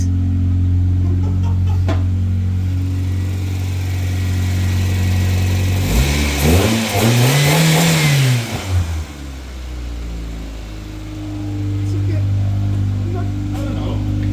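A modified Toyota Starlet engine idles with a low drone, then revs up in one rising and falling sweep before settling back to idle; people talk over it.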